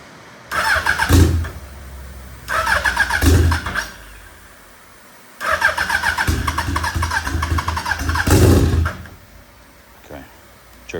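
A turbocharged first-generation Suzuki Hayabusa motorcycle engine is cranked in several attempts: two short bursts, then a longer rough run that catches and revs briefly before dying back to quiet.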